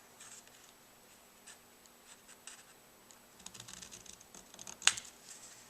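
Paper for a mini album journal is cut with faint snipping and scratchy slicing clicks that grow busier and louder toward the end, recorded close in a quiet room.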